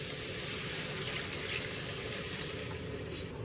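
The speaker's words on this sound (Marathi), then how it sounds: "आता आपण त्यामध्ये गरम पाणी घालूया" Hot water pours into a sizzling shrimp curry masala in a pan, making a loud, continuous rushing gush and hiss close by.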